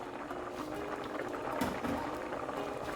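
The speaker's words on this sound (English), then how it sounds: "this has been boiling for at least 15 minutes" A pot of rice bubbling at a gentle boil, soft continuous burbling with a few louder pops, heard close up and fairly quiet.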